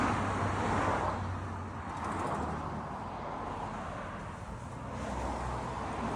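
A converted bus drives along the road, a continuous low engine rumble and road roar with swelling and easing wind noise and no voices.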